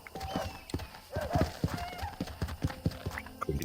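A horse in the Red Dead Redemption video game trots with brisk clip-clopping hooves and lets out a high, wavering whinny, close and fairly loud, with faint voices mixed in.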